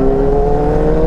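Kawasaki ZX10R motorcycle engine held at a steady high rev, a loud, close, sustained whine with strong harmonics and no letup.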